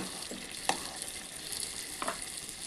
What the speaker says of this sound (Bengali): আলুটা দিয়ে আবারও আমি মাংসটা নাড়াচাড়া করে নেব